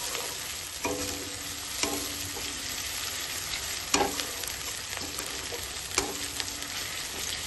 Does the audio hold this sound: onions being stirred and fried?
yes